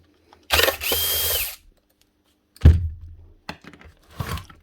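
A power driver whirs briefly to remove a screw from a Metabo MHEV 5 BL brushless demolition hammer, followed by a few solid knocks and clatters as the part is handled, close and loud.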